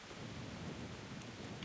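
Steady rain with a low thunder rumble in the video game Kingdom Come: Deliverance, a faint, continuous wash of noise throughout with no voices.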